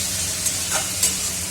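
Spice masala stir-fries in a pan with a continuous close sizzle, broken by a few light scrapes of a stirring spoon.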